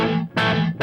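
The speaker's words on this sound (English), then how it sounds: "If I take the decay of the reverb down, a bit more tone." Electric guitar through a reverb effect set to a short decay, two sustained chord strums with a brief gap between, rich and full, trailing off quickly rather than lingering.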